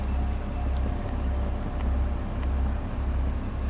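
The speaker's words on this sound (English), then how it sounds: "This head right now is running" A forestry mulcher head mounted on a tractor runs at high RPM during on-site land clearing, a constant low rumbling drone with slight pulsing, steady and moderately loud throughout.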